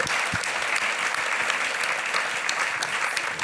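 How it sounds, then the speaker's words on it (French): Audience at an outdoor experts forum round table applauding steadily as panelists return to their seats, a dense, continuous clapping that holds evenly throughout with no voices on top. "qu'on les applaudisse le temps qu'ils retournent à leur siège"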